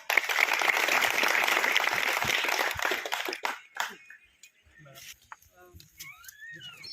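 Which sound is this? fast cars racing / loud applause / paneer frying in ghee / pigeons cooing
loud applause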